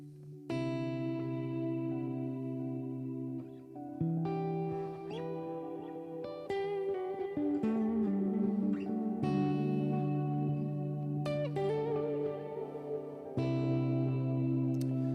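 Electric guitar, a Gretsch Silver Falcon Players Edition, played through a pedalboard with reverb switched on, ringing sustained chords and shifting notes that swell and wash together in a lush, continuous tail.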